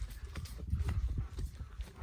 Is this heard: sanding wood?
no